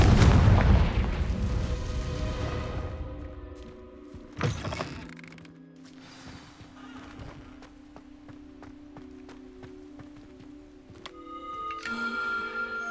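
A Confringo fire spell blasts in Hogwarts Legacy, a sharp boom near the start that rings out into a fading fiery rumble, followed by softer game sound effects and chimes.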